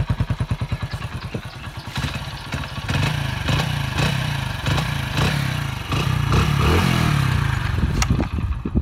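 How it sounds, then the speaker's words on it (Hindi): A Hero Splendor Plus motorcycle engine idles with rapid thumping pulses, then revs higher and runs steadily close by. "आवाज़ भी सुना देता हूँ बाइक की"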